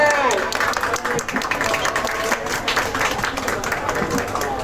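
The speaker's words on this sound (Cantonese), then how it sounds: "請大家俾啲掌聲歡迎師傅登場" Audience applause greets a Japanese master baker taking the stage at a bakery product launch and tasting event in Tsuen Wan, a steady, dense clapping from a crowd that holds fairly loud throughout with some murmuring mixed in.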